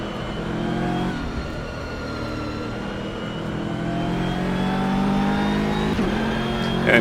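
Close, loud engine note of a GT3 race car lapping Mugello in rFactor 2, holding a sustained drone that rises through the gears, with quick shift blips near the end and no speech.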